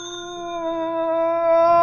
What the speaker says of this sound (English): Okay, ring the bell, Philo.